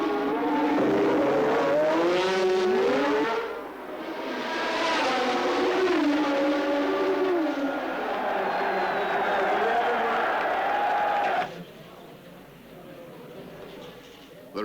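A 1978 Formula 1 race car driven by Jody Scheckter and powered by an 8-cylinder Ford Cosworth engine roars loudly with rising and falling pitch near the finish, then drops away abruptly toward the end.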